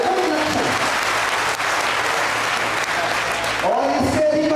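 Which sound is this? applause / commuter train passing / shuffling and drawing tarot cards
applause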